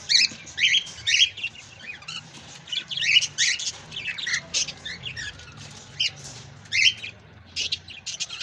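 Cockatiels in an aviary colony give sharp, high squawks and whistled chirps in irregular bursts, several birds calling close by with short quiet gaps between calls.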